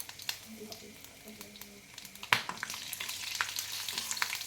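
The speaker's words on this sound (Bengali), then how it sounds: "একটু লাল করে ফোড়নটা ভেজে নেবো।" Whole cumin, cinnamon and bay leaf frying in a generous amount of oil in a kadai, a steady close sizzle with scraping stirs, growing louder and busier partway through.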